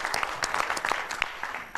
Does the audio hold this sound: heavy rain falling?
no